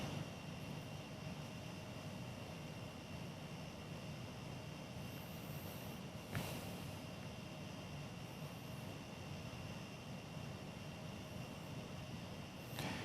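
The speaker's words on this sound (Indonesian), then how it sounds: "pesawat Fly Emirates yang gagal mendarat atau go round yang sempat viral di media sosial" An Emirates airliner aborts its landing and goes around at Bali's Ngurah Rai airport, giving a steady, broad engine roar mixed with wind noise, recorded from a distance, with a couple of sharp gusty knocks.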